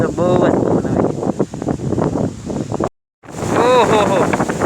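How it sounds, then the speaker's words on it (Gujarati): Strong rainy-season wind gusts roughly across the microphone outdoors, a loud continuous roar with a momentary dropout, while a person talks over it. "બહુ જ પવન આવે છે"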